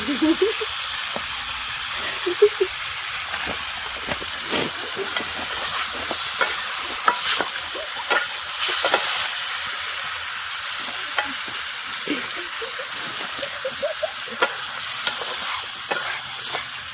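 Fish and ground spices fry in a pan with a steady, close sizzle while a spoon stirs and scrapes through the mixture in short, irregular strokes, with an occasional faint voice underneath.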